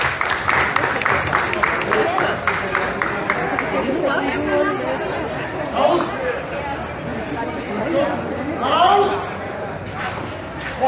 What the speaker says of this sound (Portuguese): salva de palmas pro Beto e pro Drago aí, pessoal